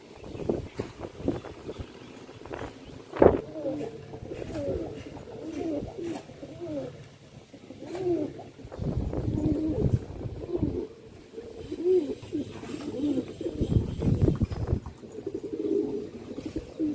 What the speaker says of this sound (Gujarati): નટખટ કબૂતર.